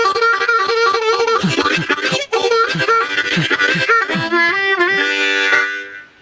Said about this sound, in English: Lesson number 2, rhythm harmonica, sounds like this.